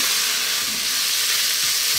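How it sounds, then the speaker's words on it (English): Onions and black pepper stir-fried in a wok for chicken broccoli give a steady, loud, close sizzle with constant hiss, the rustle of stirring running through it, and no talk. "We're going to stir fry this again now for 3 minutes."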